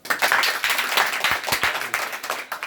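Students at a free basic maths coaching class applaud a classmate, a steady burst of close, dense hand clapping that rattles on for several seconds before thinning out at the end.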